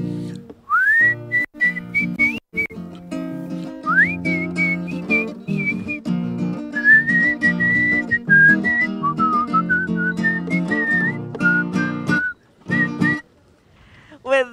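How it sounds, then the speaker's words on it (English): A person whistles a lilting tune at a beach bar's 50th anniversary celebration, with clear melodic phrases carried over a backing of music, near and prominent for most of the passage. "Okay, take us out with a tune and a whistle."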